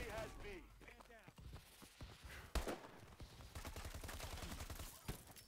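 Sharp bursts of gunfire in Call of Duty: Advanced Warfare, several shots scattered through the clip amid rustling and background game noise, with voices at the start.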